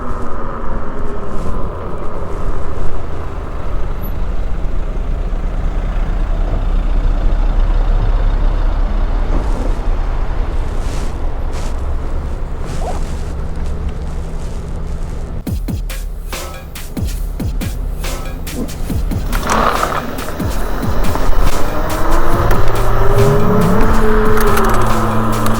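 Zero 11X electric scooter pulling away hard from a standstill, a steady whine and rushing road and wind noise that swells toward the end, with passing traffic rumble in the background.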